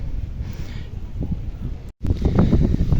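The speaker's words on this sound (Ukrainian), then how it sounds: "Тут вітер." Wind buffets the microphone in a steady low roar, briefly cut off by a gap before returning louder.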